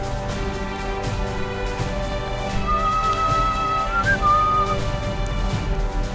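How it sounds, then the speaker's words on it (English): A person whistles a short melodic line along with fantasy role-playing game music, the tune carrying over a steady layered musical backdrop at moderate volume. "I'll stop whistling along with the music"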